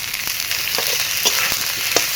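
Chopped tomatoes hitting hot ginger-garlic paste in oil for a Bengali fish curry, a loud continuous sizzle with a few light stirring clicks over about two seconds.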